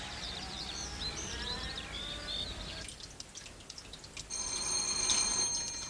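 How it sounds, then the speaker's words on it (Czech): A telephone rings faintly in a 1986 Czech hospital drama, with thin high warbling tones repeating over quiet background noise, then a brighter ring near the end. "Tak zvedne někdo ten telefon."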